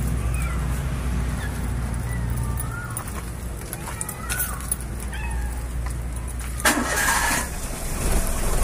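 A Perodua Kancil 850 engine starts with a burst of cranking noise, then settles into a steady low rumble, heard up close.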